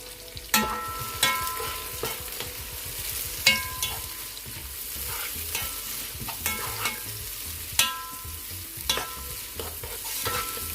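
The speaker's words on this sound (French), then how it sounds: "on laisse nos oignons en fait cuire environ 2 minutes" Onions sizzle steadily in a pan while a utensil stirs them, scraping and clinking against the pan about once a second, loud and close with no talking.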